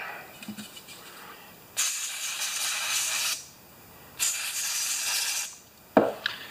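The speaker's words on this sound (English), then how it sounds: "this carb cleaner is just acetone in a bottle. So let's just do this over that" Carb cleaner sprays from an aerosol can onto a plastic part, two long loud hissing bursts of a second or more each, close by, followed by a short sharp spurt.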